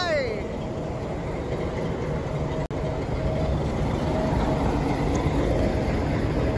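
The Ooty toy train pulls out of the station in a steady, continuous rumble with a brief sharp click partway through, and voices can be heard faintly underneath.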